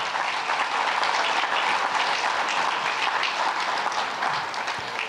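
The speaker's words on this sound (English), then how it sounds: "Again, round of applause for all of our honorees tonight." Sustained audience applause at an alumni of distinction awards evening, an even wash of clapping for the honorees that continues throughout without talk.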